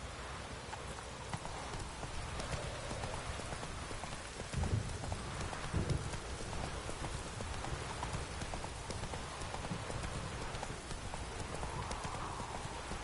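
Roach the horse trotting in a video game, a steady clip-clop of hooves heard up close over a constant wash of rain, with a faint neigh and no talking.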